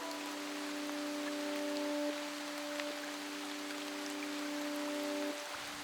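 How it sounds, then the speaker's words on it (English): Heavy, pelting rain falls steadily in southeast Alaska, a loud, uniform wash of drops with a faint low hum beneath and no voices. "it's pelting rain"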